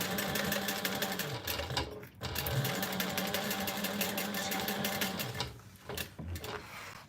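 A sewing machine runs close by stitching a seam with back stitching, a fast steady mechanical whir in two long runs separated by a short pause, then a brief stop near the end.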